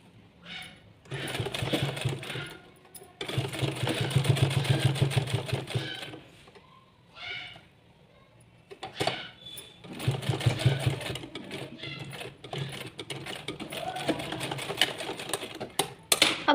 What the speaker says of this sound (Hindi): पहले हम टॉप स्टिच लगाएंगे, यहाँ पर एक सिलाई करेंगे